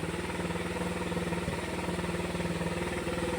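A Suzuki Raider 150 motorcycle engine running steadily after a carburetor fix with a 28 mm carb, a close, even, rapidly pulsing idle throughout.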